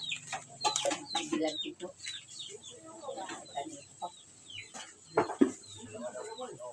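Chickens cluck nearby in a rural yard on Sibuyan, Romblon, with mixed bird calls and chirps scattered throughout, while people talk intermittently over them.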